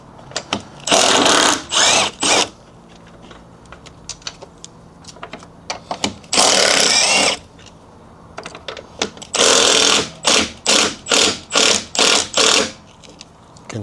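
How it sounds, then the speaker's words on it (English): Cordless impact wrench zipping out three E12 bolts atop a BMW 750i G11/G12 front air strut, heard as several loud whirring bursts of about a second each, ending in a run of short rapid pulses. "Next, I'm going to remove the 3 E12s that are on top."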